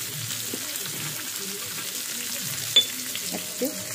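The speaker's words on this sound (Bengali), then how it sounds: "এইবার পেঁয়াজ ভাজার একটা সুন্দর প্রসেস" Onions frying in a pan for an egg biryani, a soft steady sizzle under scattered clinks and small kitchen knocks, with one sharper tap near the end.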